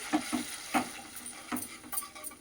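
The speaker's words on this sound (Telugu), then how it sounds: "ఇట్లా వేయించుకోవాలి" Whole spices such as almonds sizzling and being stirred in a pan for a vegetable biryani, with soft intermittent scraping strokes over a low crackle, fairly quiet and close.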